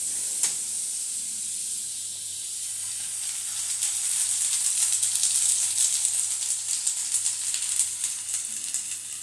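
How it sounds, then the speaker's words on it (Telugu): A burger patty sizzles in butter on a very hot pan, a steady bright hiss with crackling pops that swells louder partway through and keeps going to the end, with no voices. "బర్గర్లోకి ప్యాటీని ఇలాగా బ్రౌనిష్గా వచ్చేలాగా ఫ్రై చేసేసుకున్నామండి"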